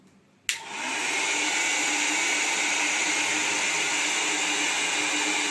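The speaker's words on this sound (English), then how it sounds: "We will switch on the hair dryer and place the ball over the air stream." A hair dryer switches on with a click and settles into a steady, loud whooshing roar of blowing air that continues without a break, with a ball levitating in its air stream.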